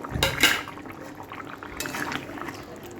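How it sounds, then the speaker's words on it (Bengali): Fried catla fish pieces go into a pan of simmering spiced gravy, a quick clatter of metal utensils against the pan at the start, then a soft bubbling and stirring, close with no talking. "ভেজে রাখা মাছগুলো দিয়ে দিচ্ছি"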